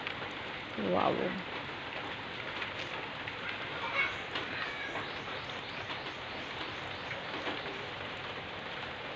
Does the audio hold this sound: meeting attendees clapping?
no